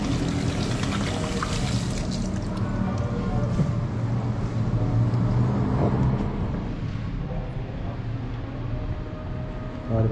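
Water pours steadily from a tap in a clean gas station restroom, a continuous splashing rush close by, with faint talk underneath.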